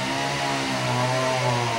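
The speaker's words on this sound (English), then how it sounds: "They're over here with the chainsaws already." Steady buzzing drone of a running chainsaw engine cutting tornado-damaged trees, fairly close and continuous throughout.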